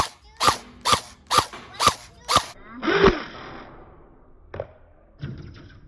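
An electric gel blaster fires down an outdoor test range on semi-auto mode: five sharp, evenly spaced snapping shots, then a heavier burst with a short rattling tail and a couple of faint distant impacts after.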